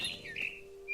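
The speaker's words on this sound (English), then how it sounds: "It was a barn swallow going back to her nest." A barn swallow in the video game What Remains of Edith Finch gives a quick, faint chirp or two, brief and high, over a low sustained background tone.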